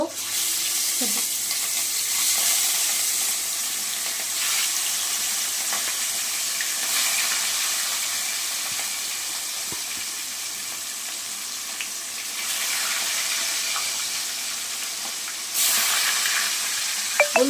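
Pieces of katla fish fry in hot oil in a pan, giving a continuous loud sizzle with occasional surges and crackles, steady and close.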